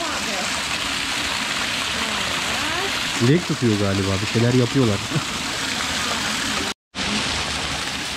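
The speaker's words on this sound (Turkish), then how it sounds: "böyle gerçekten çok güzel görüntüsü olan bir şelale var burada" Rushing water from the İstek Waterfall roars steadily nearby, with a person speaking briefly over the constant wash of sound.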